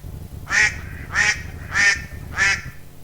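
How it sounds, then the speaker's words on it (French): Four loud, nasal duck quacks at a steady, evenly spaced rhythm, close by, with a low rumbling background underneath. "un canard s'échappe, se précipite vers la rivière et plonge dans l'eau."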